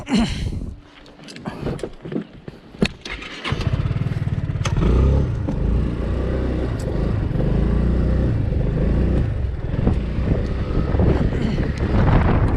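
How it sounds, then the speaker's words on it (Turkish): Strong wind buffets the microphone in a steady low roar on the coast at Fethiye bays, with a quieter start before the gusts take over. "Çok rüzgar var."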